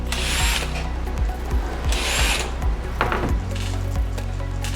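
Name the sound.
removing Torx T8 screws from a PS4 power supply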